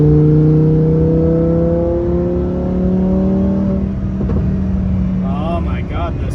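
A 2019 Lamborghini Huracan Performante engine pulls hard from inside the cabin, its steady rising drone held loud for several seconds before easing, with a voice exclaiming over it near the end.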